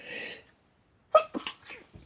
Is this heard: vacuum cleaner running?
no